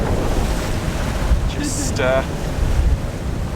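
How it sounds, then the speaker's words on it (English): Strong wind and rushing waves around a sailboat beating upwind in 19-knot gusts, a constant roaring wash with splashes, close and loud, with a brief voice partway through. "We're in gusts of 19 knots, kind of beating into the wind, which isn't too much fun."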